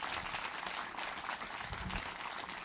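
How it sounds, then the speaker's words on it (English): An audience at an Eagle Scout scholarship dinner claps steadily for a few seconds, a dense, faint patter of many hands heard from some distance. "let's give them a round of applause"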